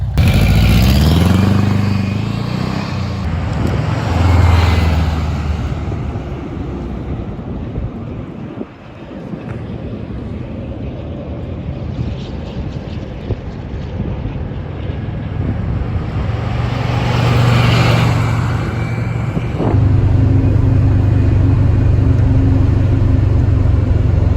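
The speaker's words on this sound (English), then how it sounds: "1995 Volkswagen Beetle, made in Mexico. Let's go for a ride." A Mexican-built 1995 Volkswagen Beetle drives along the road, its engine drone rising and falling through gear changes under heavy wind buffeting on the microphone.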